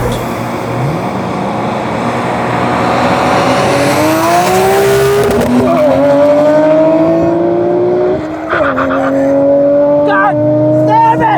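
A 1999 Nissan R34 Skyline GT-R and a 2023 Nissan Z Proto roll race, engines roaring loud and close as they climb steadily through the gears with brief shift breaks, rising pitch and a tire squeal, with voices mixed in.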